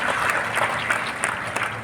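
Sustained audience applause at a school board toppers' award ceremony honouring intermediate and matriculation students in a Patna hall, with steady dense clapping throughout and no speech.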